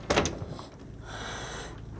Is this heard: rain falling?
no